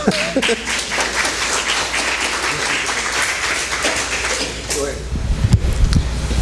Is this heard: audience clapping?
yes